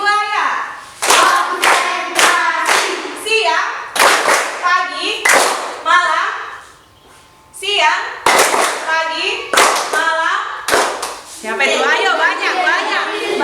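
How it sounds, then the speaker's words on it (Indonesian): Children in a classroom clap their hands in repeated bursts of quick, rhythmic claps separated by short pauses, with a teacher's voice and children's chatter in between. "Bagus, tepuk tangan."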